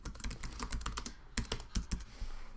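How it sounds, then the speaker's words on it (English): Quick typing on a computer keyboard, a close run of crisp key clicks in short flurries separated by a brief pause, with no voices. "And then I type in the title of the article"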